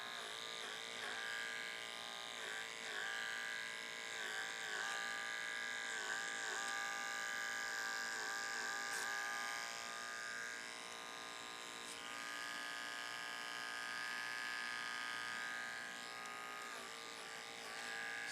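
An electric hair clipper buzzes steadily through a men's short haircut, held in an underhand grip with a large comb acting as the guard; the hum is close and continuous, wavering slightly in pitch as it works through the hair.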